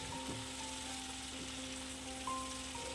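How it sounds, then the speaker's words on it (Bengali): Onion and tomato slices fry in oil for a katla fish curry, producing a soft, continuous sizzle with light crackling, fairly quiet and steady, without any talking. "পেঁয়াজ আর টমেটোটাকে তেলের মধ্যে প্রায় 3 থেকে 4 মিনিট ধরে ভালো করে ভেজে নিতে হবে"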